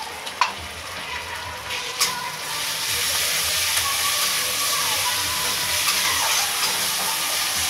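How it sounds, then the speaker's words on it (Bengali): Ginger-garlic paste fries in a pan of reddened onions for chicken and potato gravy, a steady broadband sizzle that swells after a few seconds and keeps hissing evenly, with a couple of sharp clinks near the start and no talking. "এবার আদা রসুন বাটার পরে একটুখানি ভেজে নেবো"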